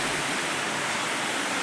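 Water running from a tap as a steady, even rushing hiss throughout, close and moderately loud with no voices.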